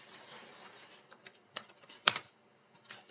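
Quiet keystrokes on a computer keyboard while C++ code is entered, scattered soft taps through the first half, then a few sharper clustered clicks near the end, close and alone.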